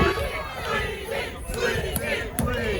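Loud wrestling crowd at an independent wrestling event roars and chants steadily, a dense wall of cheering voices with sharp shouts breaking through near the end.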